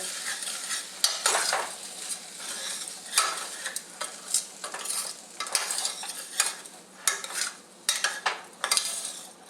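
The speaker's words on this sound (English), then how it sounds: "Stir it really well." Rice and lentils for khichdi are stirred in a pot over a low flame, giving repeated scraping and swishing strokes in an irregular rhythm with a faint sizzle underneath, close and moderately loud, no talking.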